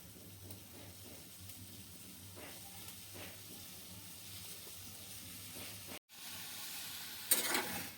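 Freshwater snails hit a hot pan over a gas flame, producing a faint, steady sizzle and hiss with light stirring, then a brief gap before a louder, brighter hiss returns near the end.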